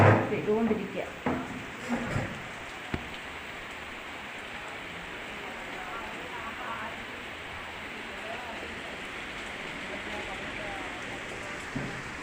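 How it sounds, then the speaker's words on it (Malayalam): Heavy rain pours steadily as a dense, even wash of noise throughout, with a few knocks and a soft voice near the start. "കണ്ടില്ലേ നല്ല മഴയാണ്"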